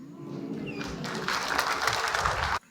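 Battle rap crowd at a Mhot vs J-Blaque match erupting in loud cheering and applause, a dense sustained roar that swells and then cuts off abruptly.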